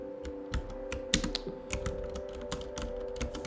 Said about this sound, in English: Let's see if I can figure out to type square brackets here